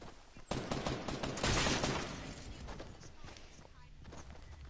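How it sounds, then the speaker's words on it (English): Video game gunfire comes in rapid, crackling bursts that swell and then ease off, sounding somewhat distant and muffled. "I'm getting shot at, Brandon."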